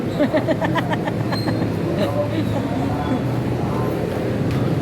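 Inside a moving LRT light rail train, a steady low rumble of the carriage runs beneath people talking, with some rattling and a brief high squeal.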